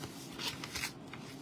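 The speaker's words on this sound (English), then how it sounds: "So you open up your envelope and it has your design in it." Paper envelope being opened, brief crinkly rustles and soft tearing close by with no talking.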